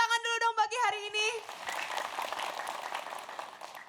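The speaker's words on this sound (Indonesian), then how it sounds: "tepuk tangan dulu dong bagi hari ini." Audience applause at an Islamic religious talk show, a broad wash of clapping rising after an opening of voice and music and continuing steadily to the end.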